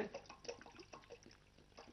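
Water is poured into a trough, giving faint, intermittent splashes and trickles in a quiet setting with no talking.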